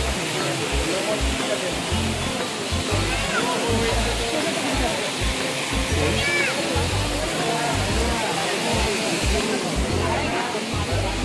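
Water rushes steadily at Kondeshwar during the first monsoon rain, a loud, unbroken roar of flowing water nearby, with voices faintly mixed in.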